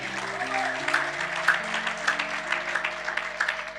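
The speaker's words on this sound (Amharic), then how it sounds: "አጨብጭቡ ለእግዚአብሔር ክብር።" A church congregation claps during a sermon, steady moderate applause running throughout over a sustained keyboard or organ chord, with no speech.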